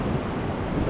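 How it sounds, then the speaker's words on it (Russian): Stormy sea on the Turkish coast with rising waves, a steady broadband roar of surf and heavy wind buffeting the microphone, continuous and loud with no voices. "сейчас, кстати, начинают волны нарастать"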